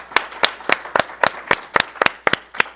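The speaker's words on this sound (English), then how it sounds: "let's give a round of applause for them" A small group at a school fine arts introduction claps in a slow, evenly spaced rhythm, about ten crisp, close claps that could come from one or a few people, with quiet gaps between them.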